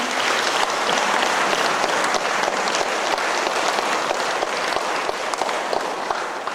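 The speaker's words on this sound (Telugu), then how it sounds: "మనం ఒకసారి గట్టిగా చప్పట్లు కొడుతున్నాం" A school anniversary celebration audience claps loudly and continuously, a dense, even wash of applause from a large crowd throughout.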